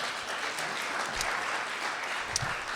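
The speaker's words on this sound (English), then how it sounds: "so a round of applause for her." An audience claps at a live event, a dense, even wash of applause from many hands held steady at moderate loudness for a few seconds.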